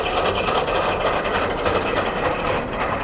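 Hay equipment runs loudly with its helical gear set meshing, a steady dense mechanical roar and rumble that holds constant throughout, with no talk over it.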